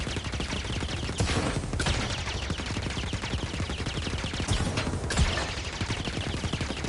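Sustained gunfire rattles continuously at a steady, dense pace while shooting at an enemy in Jedi: Fallen Order, with a couple of heavier bursts standing out amid the loud barrage.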